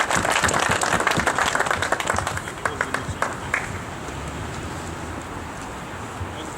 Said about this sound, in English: So if you would please join me in a round of applause for Delegate Michael Schmiegel.